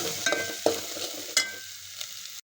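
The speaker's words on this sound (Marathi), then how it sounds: "हे चांगले परतून घ्यायचे." Spices for mutton curry sauté in a pan with a soft, quiet sizzle, punctuated by a few clear spatula scrapes and taps before the sound cuts off abruptly near the end; close by and without speech.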